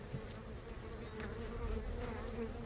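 Honeybees buzz steadily and close by during a beehive inspection, a dense continuous hum with a few individual bees flitting louder past the ear, with no talking.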